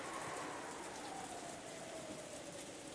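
Steady rain falls in Umineko, a dense, even hiss of droplets that stays constant and fairly close with no voices over it.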